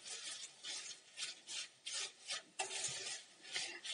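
Raw banana fry slices coated in spices are tossed and scraped around a pan in steady, repeated rasping strokes, close and fairly quiet, with no voices.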